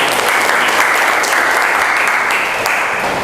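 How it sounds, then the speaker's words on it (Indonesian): Class applauding together, a steady dense clatter of many hands clapping throughout, loud and close, with no break. "aplaus buat kita"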